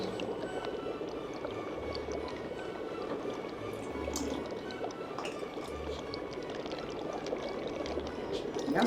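Warm swamp water poured for a potion, a steady close trickling and bubbling pour running continuously with faint clinks and no talking.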